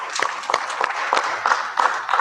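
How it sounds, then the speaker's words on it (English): At a national symposium in Guyana, an audience in a convention center gives brief scattered applause, a patter of clapping from a modest crowd. "let us also extend a hearty round of applause to the Guyana Learning Channel"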